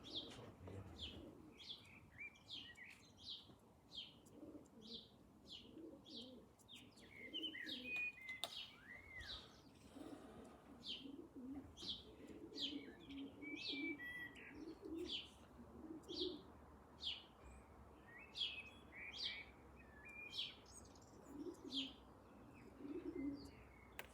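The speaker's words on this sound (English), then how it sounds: "That's a pigeon." Pigeon cooing at a horse racecourse, soft repeated coos woven among busy bird chirps and tweets, with some faint background voices in the open air.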